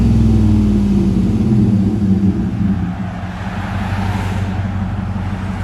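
A 2009 Chevy Silverado Z71 with a 5.3L V8 and Flowmaster Super 10 dual exhaust rumbles with a deep, steady idle, loud and close, easing slightly lower midway.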